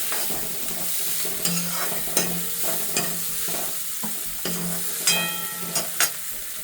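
Green vegetables for chow mein noodles are stirred in a hot sizzling pan, with repeated scraping clatters of the utensil over a constant frying hiss, close up and without talk.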